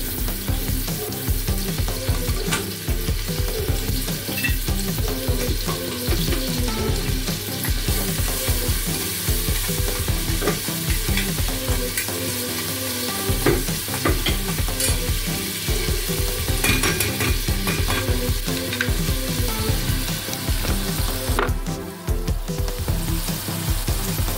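Onion, garlic and cumin fry in hot oil in a pan, giving a loud, continuous sizzle with steady stirring clatter throughout and no voices.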